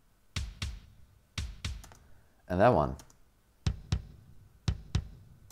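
Triggered kick drum samples from a live mix play back in Pro Tools as sharp, punchy separate hits in pairs. A short spoken phrase breaks in between them.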